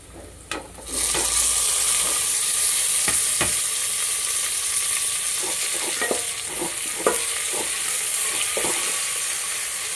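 Onions and tomatoes sautéing in a pan for sambar, a steady close sizzle throughout with occasional scraping stirs, no talking.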